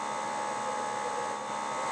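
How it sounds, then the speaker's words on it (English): A steady, even suction hum from the vacuum at a Thorlabs FFS2000 fibre cleaning station, running continuously and fairly loud with no talking over it. "Placing it in the dunking jig at the cleaning station will activate the vacuum."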